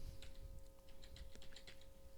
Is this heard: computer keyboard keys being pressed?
yes